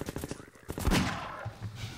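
Gunfire in Half-Life 2 as a player shoots at enemies, a few sharp close shots with a louder burst in the middle, mixed with game noise.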